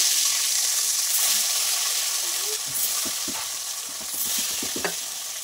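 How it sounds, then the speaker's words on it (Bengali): Rohu fish pieces frying in hot oil give a loud, steady sizzle, with spatula scrapes and stirring knocks clustering toward the end. "দেখো মাছগুলো ভাজা হয়ে গেছে, তুলে নিই।"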